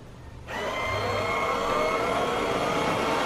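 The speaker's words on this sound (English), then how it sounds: "the fan in here is actually really loud. It's quite a powerful fan." A steady, loud fan whir from a Proscenic 790T robot vacuum starts abruptly after a short quiet moment and keeps running evenly, broadband and close.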